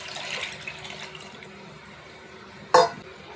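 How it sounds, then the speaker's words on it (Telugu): Tamarind juice poured into a simmering pesara punugulu (moong dal fritter) curry, a soft, steady liquid wash ending in a short sharp clatter near the close. "పులుసు వేసుకుందామండి."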